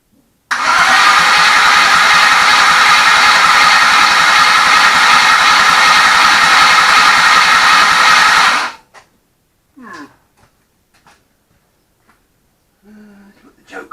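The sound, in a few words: Ford Falcon engine starting and running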